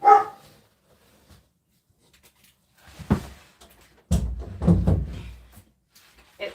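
A dog barking indoors in a home, a brief bark at the start followed by several louder, bursty barks in the second half, heard from another room with quiet gaps between.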